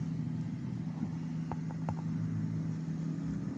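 A steady, low engine drone of road traffic hums from inside a vehicle, with a few faint clicks partway through and no speech.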